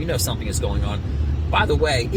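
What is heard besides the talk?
No everyday noise stands out behind the speech.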